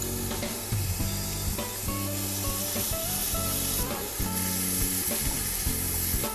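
Soy sauce poured over small sliced pieces of meat already frying in a pan, giving a steady close sizzle with stirring and scraping noises, while music plays underneath.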